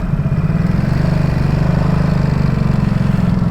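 A Ducati SuperSport 950S engine runs with the throttle worked, a loud close, steady throbbing rumble that holds even for a few seconds.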